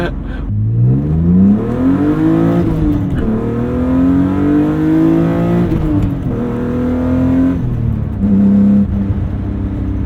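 A BMW E36 M3 with a manually swapped transmission and motor and transmission mounts accelerates hard. The engine climbs through several gears, and each rising rev sweep is broken by a shift, loud and close. Talk is faint underneath.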